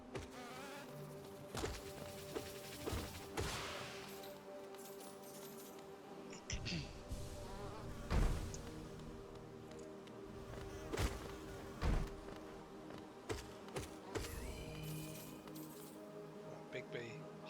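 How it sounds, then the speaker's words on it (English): A giant bee enemy, the Hive Guardian, buzzes in the Hollow Knight video game, a steady droning hum running under game music, with sharp hits and thuds breaking in now and then. "Big bee, Hive Guardian."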